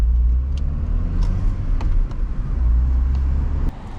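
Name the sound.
car with manual transmission, engine running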